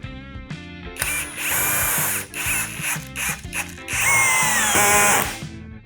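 Procraft CD20B cordless drill-driver running in impulse mode at second speed, driving into a clamped workpiece with loud, close bursts of whirring and rapid hammering clicks that rise and fall.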